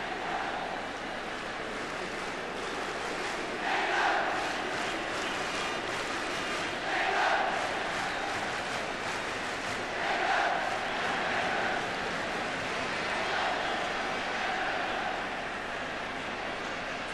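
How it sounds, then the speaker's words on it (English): A large football stadium crowd at an England v Brazil match roars and jeers in a sustained, broad wash of noise, swelling in repeated waves every few seconds with no talk over it. "And the crowd entitled to be as upset as they are."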